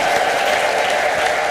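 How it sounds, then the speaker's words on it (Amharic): A church congregation at an Ethiopian evangelical service applauds in praise, with dense, loud, continuous clapping from many hands throughout. "ለጌታ ከፍ ያለ ልልታ ጭብጨባ እንደገና"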